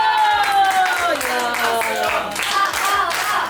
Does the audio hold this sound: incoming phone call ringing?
no